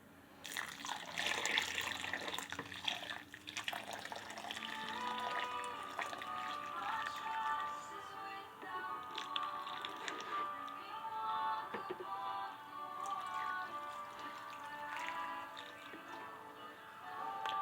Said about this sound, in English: This is how you do drip irrigation inside.